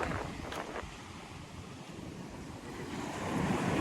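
Waves wash onto the shore in a steady surf roar, with wind buffeting the microphone and the swell rising louder toward the end.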